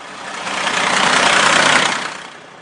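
Truck engine in a children's video game, a single synthetic rumbling whoosh that swells up and fades away over about two seconds, loud and alone.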